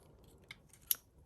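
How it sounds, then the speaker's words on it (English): Scissors snip through crepe paper while a dahlia paper flower is being made: three short, quiet cuts spaced about half a second apart, with nothing else around them. "I just need to cut one more element."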